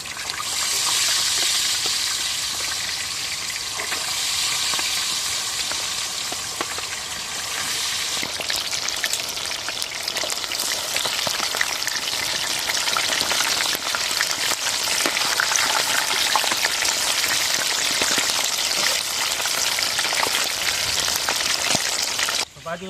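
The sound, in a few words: quail frying in hot oil in a pan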